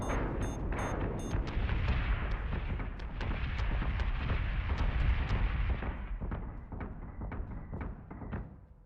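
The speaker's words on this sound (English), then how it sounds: "Because this guy's lower, I want to keep my turrets firing." Spaceship turrets fire in a rapid stream of sharp, punchy shots during a Battlestar Galactica space battle game, loud and dense at first, then thinning and fading away.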